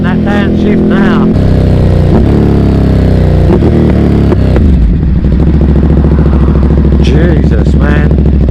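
A motorcycle engine, loud and close, revving hard and dropping through a downshift with harmonic pitch sweeps and rumbling exhaust, while someone talks over it.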